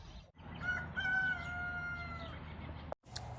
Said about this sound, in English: I think we have a rooster.